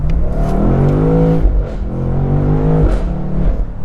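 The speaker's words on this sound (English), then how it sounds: "open the exhaust so you can really hear. The S63 TU V8 4-liter twin turbo." A 2023 BMW M850i Convertible's S63 4-litre twin-turbo V8 in Sport Plus with the exhaust open revs hard twice, each climb rising in pitch before dropping away, loud and close with a deep, angry exhaust tone.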